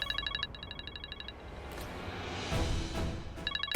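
A telephone rings in short electronic trilled bursts, a pulsing ring, a pause, then the ringing resumes, with some rustling and background movement in between; no one speaks.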